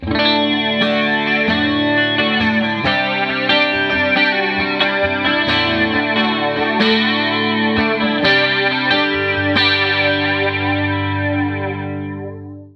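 Strummed electric guitar chords ring out through a PRS Wind Through The Trees dual analog flanger pedal, with a sweeping, swirling modulation effect, played steadily and loud, fading at the end.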